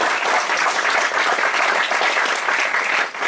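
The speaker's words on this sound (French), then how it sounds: "Vous pouvez m'applaudir juste pour me..." Comedy club audience at the Montmartre Galabru applauding, a full, dense burst of clapping that stays even and loud before dropping off abruptly at the end.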